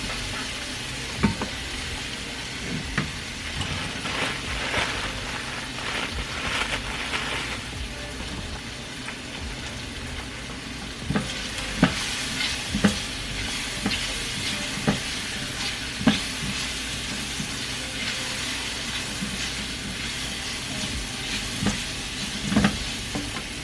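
Tortillas fry in hot grease for vegetarian enchiladas, a continuous crackling sizzle close by, punctuated by occasional sharper pops and clatters as they are moved around the pan.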